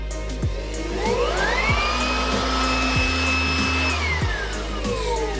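A loud Chemical Guys blower/vacuum motor whines steadily, its pitch sweeping up, holding high, then dropping back down, with a constant low hum underneath.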